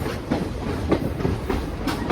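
A steam-era excursion train, hauled by locomotives 765 and 358, rolls steadily along the rails with a rhythmic clickety-clack of wheels over joints, heard from on board with no talk.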